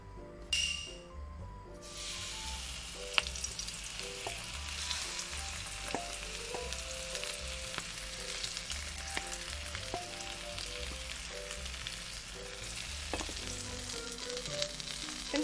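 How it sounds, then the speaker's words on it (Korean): Seafood pancake batter sizzles and crackles steadily in a hot pan, close by, with faint clinks and soft background music. "달궈진 것 같으니까 한번 부어볼게요"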